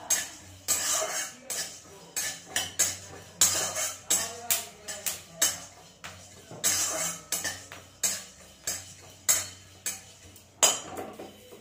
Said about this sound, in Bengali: এটাকে শুকনো কোলায় নেড়ে নিতে হবে শুধু এক মিনিট